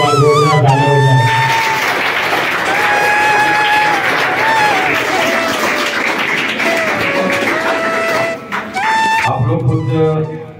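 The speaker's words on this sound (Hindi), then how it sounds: "एक बार जोरदार ताली हो जाए।" Loud, sustained applause from a crowd at a prize distribution ceremony for a coaching class, with whistles and cheering over dense clapping that fades near the end.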